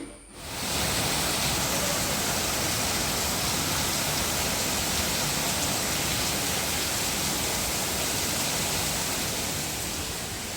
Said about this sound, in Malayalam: കാരണം ഫുൾ മഴയാണല്ലോ